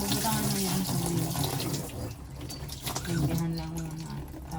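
Water runs from a tap or is poured into a basin in a household setting, a steady splashing trickle with brief faint voices in the background.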